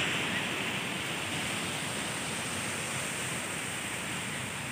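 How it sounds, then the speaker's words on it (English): Steady broadband surf wash at Hampton Beach on a busy day, a constant even roar of waves with no distinct breaks, close and moderately loud, no talk over it. "This is a perfect day to be at the beach."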